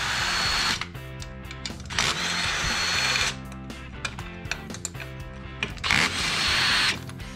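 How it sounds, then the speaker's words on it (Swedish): A power tool grinds out a hole during work on a Crescent F50GLX outboard motor, several loud, close, whining bursts of varying length with brief pauses and mechanical rattling between them. "Jag slipar upp det här hålet lite mer."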